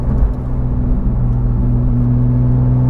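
Porsche 911 GT3 991.1 flat-six exhaust with the valves held fully open by a PSE mod, revved to a steady 3,000 RPM, a loud, close, even droning rumble with no speech.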